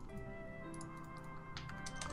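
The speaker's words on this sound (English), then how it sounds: "I'm typing Jamie Lee now" Keys tapped on a computer keyboard, a run of quick, light clicks that are faint under background music.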